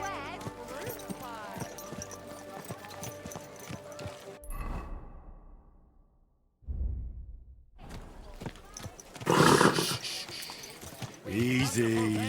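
Horse hooves clip-clop in a medieval open-world game, Kingdom Come: Deliverance II, with a whinny. The steps break off into a short near-silence, then hooves and rustling movement return, loud and close, under brief talk.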